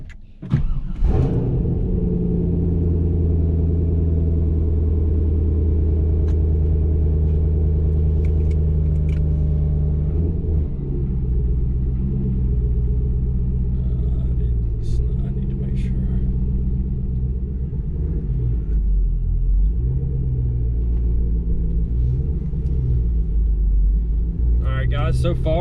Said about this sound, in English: we're going to put the car down, and we're going to take it for a drive and see how it goes